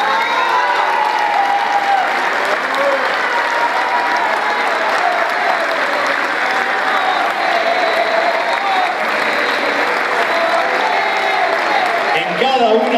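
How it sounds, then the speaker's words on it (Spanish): A large crowd applauds steadily and loudly at a union anniversary celebration, the dense clapping holding at an even level for the whole stretch with no pauses. "Fuerte el aplauso para el compañero"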